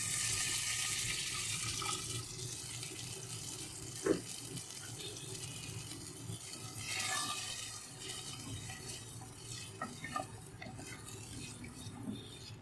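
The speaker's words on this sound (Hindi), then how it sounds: "अब जो यखनी मैंने निकाल ली थी, छान ली थी, अब मैं इसके अंदर ऐड कर दूंगी।" Strained goat trotter stock is poured into a cooking pot of paye, giving a soft, steady pour and splash that stays faint throughout, with a small clink partway through.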